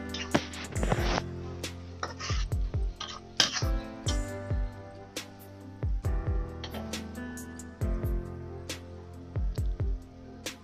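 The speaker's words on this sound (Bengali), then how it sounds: "এখন মশলাটা ভালো করে নেড়ে দিব।" A spoon scrapes and clinks against a pot while spice masala for beef is stirred over a clay stove, with irregular metallic taps and scrapes in short bursts, close and fairly quiet.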